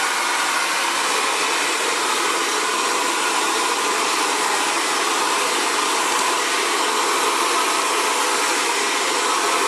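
An Xtava Allure Professional ionic ceramic hair dryer blows steadily on curly hair, a loud, close, unbroken whoosh of air for the whole stretch with no talking.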